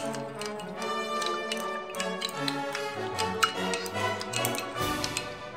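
A spoon stirs sugar into water in a glass for a jaljeera drink, ringing out as quick repeated clinks and taps close by while a voice hums or talks underneath.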